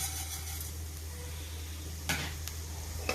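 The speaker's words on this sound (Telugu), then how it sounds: "జీలకర్ర ధనియాలు జీలకర్ర వేగిన తర్వాత ఇలా వేస్తున్నానండి" Coriander seeds go into cumin already sizzling in hot oil for a tamarind-leaf chutney. A steady, even hiss of frying continues under a low hum, broken by two brief clatters near the end.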